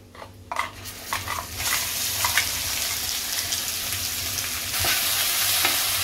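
Green masala paste sautéed in a pan with turmeric and koli masala, quiet spoon clinks at first, then a loud, steady sizzle with repeated scraping stirs from close by.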